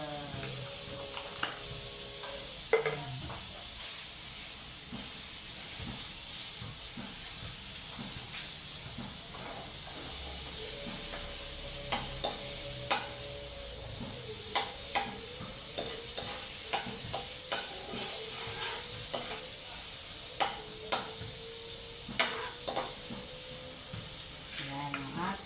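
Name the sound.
butter sizzling in a frying pan, stirred while cooking seafood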